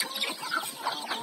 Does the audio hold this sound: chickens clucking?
yes